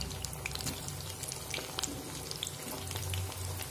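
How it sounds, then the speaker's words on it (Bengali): Chilled chicken pakoras deep fry in hot oil, a steady close sizzle and faint bubbling running throughout with scattered crackles, no voices. "আর বাকি ঠান্ডা পকোড়াগুলো একইভাবে ভেজে নেব।"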